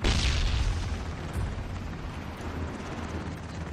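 A grenade detonates in a video game with a loud boom at the start, followed by a rumbling, decaying roar and debris noise that fades over several seconds.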